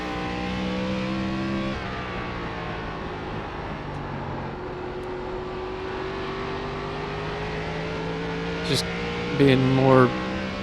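A race car engine under throttle in iRacing, an ARCA stock car at Nashville Fairgrounds, drones steadily throughout with sustained harmonic tones shifting as revs change, then a brief louder rise and rev spike near the end; talk runs over it.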